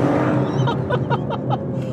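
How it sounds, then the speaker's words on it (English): Twin-turbo engine of an Aston Martin DBS Superleggera blips on a downshift, a short series of about five quick rhythmic revs over steady engine drone, heard close from inside the car. "I love the sound of this engine."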